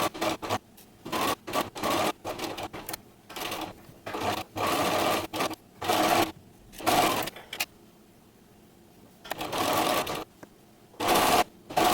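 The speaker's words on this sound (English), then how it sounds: "sew this lace onto the t-shirt" A sewing machine straight-stitching lace onto a t-shirt, running in short bursts of rapid whirring that stop and start, with quiet pauses between runs, close to the machine.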